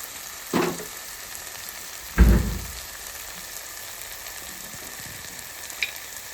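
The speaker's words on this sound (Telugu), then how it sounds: "హాఫ్ స్పూను సాల్ట్ వేసుకుని బాగా కలుపుకోవాలి" Ridge gourd curry with egg and prawns frying in a pan, stirred with salt: a steady soft sizzle with two louder bursts of stirring and scraping near the start, then quieter hissing.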